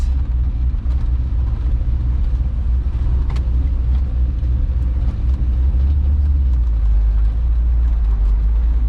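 A car out on a road test after an intercooler install, its engine and tyre rumble steady and loud from inside the cabin, with no talk over the drone.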